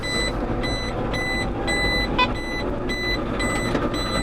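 A vehicle's reversing alarm beeps steadily in a regular repeating rhythm over a low engine rumble, fairly close and continuous.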